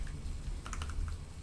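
Typing on a low-profile Keychron mechanical keyboard, a quick cluster of light clicky keystrokes over a low background hum.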